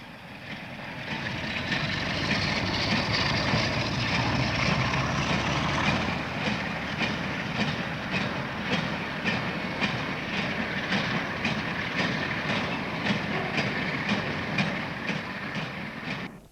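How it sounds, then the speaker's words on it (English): A Derby-built two-car diesel multiple unit runs on the Grimsby-Barnetby line, a loud sustained rumble with a rising engine drone and a regular clickety-clack of wheels over rail joints as it passes close by. "The Derby-built two-car unit leaves the Grimsby-Barnetby line and"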